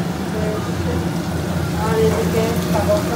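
Pulao rice frying in a pan makes a steady, rain-like crackling sizzle throughout, with someone talking faintly over it.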